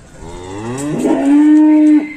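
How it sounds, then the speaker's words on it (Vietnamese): A bull among a group of three cattle lets out one loud, close moo that swells and holds a steady low tone before cutting off, with no talking. "Ba bò đực ha chú anh chị."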